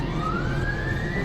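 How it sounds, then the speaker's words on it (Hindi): An ambulance siren wails steadily with a slowly rising pitch, loud and continuous against a dense rumble of traffic. "एम्बुलेंस का सायरन"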